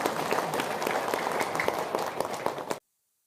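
Audience applause, a dense burst of many hands clapping at close range, steady for a few seconds before cutting off abruptly.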